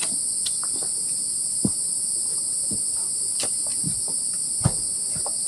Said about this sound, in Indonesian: Suara serangga hutan kedengeran.